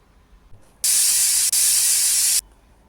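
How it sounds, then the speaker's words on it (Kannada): A pressure cooker on the stove, cooking soaked lentils with salt for a village-style greens curry, lets out a loud, steady hissing whistle of steam that lasts about a second and a half, breaks off for an instant, then resumes before stopping abruptly. "ನೋಡಿ ಈಗ ಎರಡು ವಿಷಲ್ ಆಗಿದೆ ಆವಿ ಎಲ್ಲ ಬಿಟ್ಟಿದೆ"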